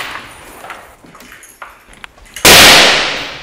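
Gunfire from enemy snipers across a river, faint distant pops and cracks followed by a sudden loud, close burst that rings out and slowly fades.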